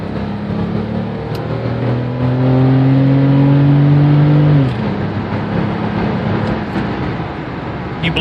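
1993 Mercedes-Benz S600 600SEL with its V12 revving hard under full throttle, a loud rising engine note that climbs steadily, cuts off sharply at a shift, then settles into a lower cruising roar.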